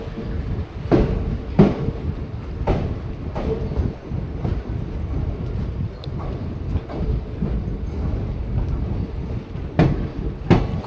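A Kalka–Katra train rolls out of Udhampur station, its wheels giving irregular sharp clacks over rail joints above a continuous rumbling roar, heard close from on board.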